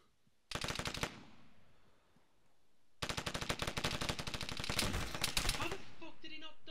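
Automatic gunfire in a capture-the-flag online shooter match, a short rapid burst followed by a longer sustained volley, sharp and fairly close.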